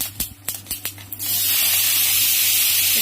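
Vegetables hit hot oil tempered with five-spice and a green chilli, starting with a few sharp clicks and pops before a loud, steady hissing sizzle takes over and continues to the end.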